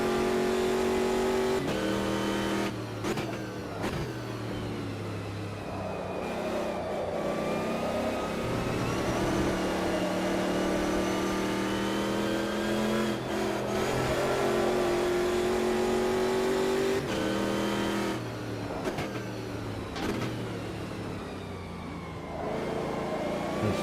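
Race car engines in the Automobilista 2 racing game roar continuously near the end of a race against AI cars, with revs rising and falling through gear changes at steady loudness, no voices.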